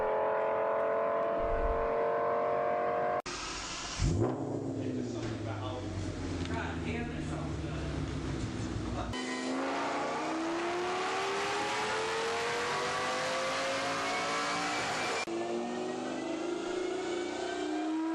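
An Audi C6 S6 V10 engine with headers revs hard in several rising pulls, loud and close, with excited voices talking over it throughout.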